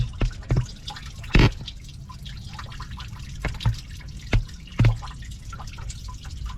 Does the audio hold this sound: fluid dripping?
yes